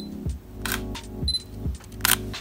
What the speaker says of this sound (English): listen to the shutter